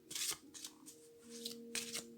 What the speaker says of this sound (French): On mélange bien les cartes par le haut.